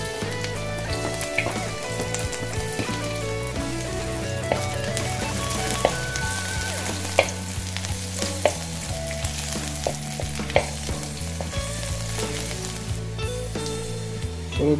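Chopped garlic sizzles steadily in hot cooking oil in a pan for a Filipino chicken tinola, a continuous close crackle and hiss with scattered sharp pops over a faint harmonic background.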